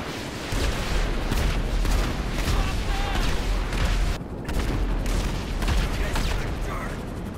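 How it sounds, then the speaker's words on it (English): Bombs going off in an Army of Two video game, a dense run of loud booming blasts and gunfire-like bursts filling nearly the whole stretch, with a brief lull partway through. "Bombs incoming."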